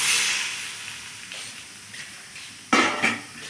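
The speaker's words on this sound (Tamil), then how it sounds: "நம்ம வேக வச்சு பருப்பு எடுத்து ஊற்றிக்கலாங்க." Cooked dal is poured into a hot tempering of small onions for a greens and dal dish, with a steady frying hiss and two louder sizzling bursts close together near the end.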